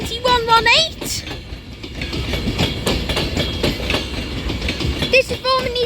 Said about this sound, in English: with a Class 390 Pendolino with 39118, which is just heading on to platform 11